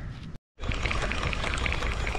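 A small fish, one of the little ones caught while fishing for snook in heavy structure, is let go right back into the water, bringing a brief splash and pour of water close by that runs steadily after a short gap.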